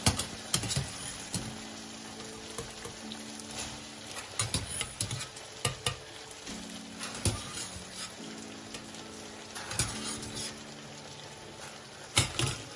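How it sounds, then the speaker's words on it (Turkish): Bulgur meatballs, drained from their cooking water, drop into a pan of fried tomato paste sauce, with a steady sizzle and patter and scattered clinks and stirring knocks of a spoon against the pan. "Şöyle köftelerim süzüp kavrulmuş salçalı sosunun içine ilave edeceğim."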